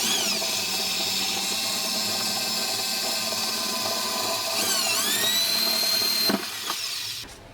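A power drill spins a bit into metal with a steady high-pitched whine, briefly dipping and recovering in pitch as it bites into the workpiece, then winding down at the end.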